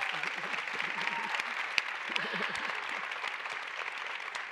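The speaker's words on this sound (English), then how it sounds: "A well-deserved round of applause." An audience at a panel discussion applauds steadily throughout, with a few cheers and a voice briefly rising above the clapping.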